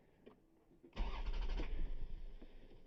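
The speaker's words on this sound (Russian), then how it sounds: "попробуем завести наш автомобиль" A Toyota Harrier engine cranks and catches with a sudden low rumble, then settles into a steady idle with slight revving, close by and fairly quiet overall.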